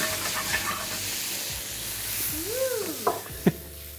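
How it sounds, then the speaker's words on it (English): Brandy flambéing in a hot pan with butter gives a loud, continuous hissing rush, with a couple of short knocks and clatters toward the end. "we're gonna add brandy now, which is gonna flambe"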